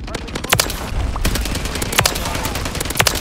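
Rapid automatic gunfire crackles in a video game firefight, several loud bursts of shots overlapping in quick succession.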